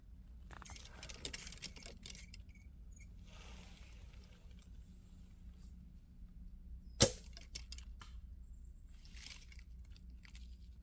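An arrow strikes a target at a distant archery peg, a single sharp loud impact standing out against quiet outdoor background noise.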